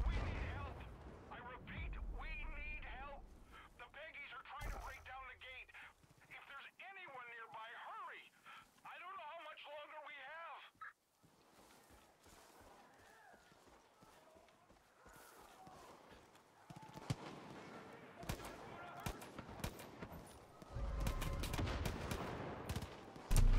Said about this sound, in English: there's a bunch of people up here shooting at each other